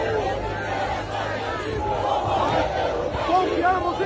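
A large crowd at a rally, stirred up by a priest, roars and shouts in a loud, continuous mass of voices, with individual cries standing out from the din.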